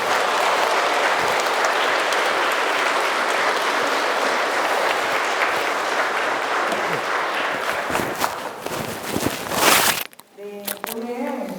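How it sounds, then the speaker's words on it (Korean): Audience applause after a Lent lecture at a Catholic gathering, loud sustained clapping from a large crowd that swells and then stops abruptly, followed by a few seconds of speech. "또 먼 길 가셔야 되는 신부님을 위해서 큰 박수 한번"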